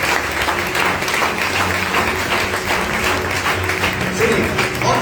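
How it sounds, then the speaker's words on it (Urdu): Sustained, dense applause fills the room as a congregation claps during a pastor's church sermon, loud and continuous with some crowd voices blended beneath. "جو دور سے آتے ہیں ان کے لیے تالیاں بجائیے."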